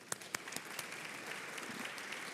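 An audience at a professional congress applauds a cofounder being called on stage, a soft, fairly distant patter of clapping with a few sharper claps early on.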